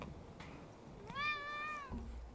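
A single drawn-out cat meow, clear and tonal, lasting under a second against a quiet room background.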